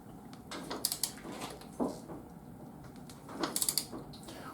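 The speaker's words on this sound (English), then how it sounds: "Now we can torque the rear axle" Torque wrench tightening the rear axle nut on a 2023 Honda 150 dirt bike, a few faint close metallic clicks and ratcheting ticks against quiet shop background.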